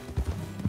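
A few soft mule hoofbeats clop in a quick uneven rhythm while riding through wilderness in Red Dead Redemption 2, fairly quiet and near, with no talking.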